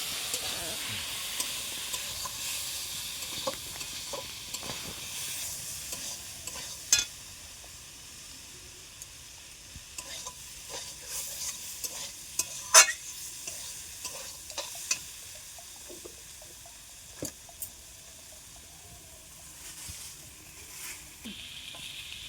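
Quiet sizzling as leafy greens with turmeric fry in a pan, with scattered scraping and clinking from stirring throughout, occasional sharper knocks.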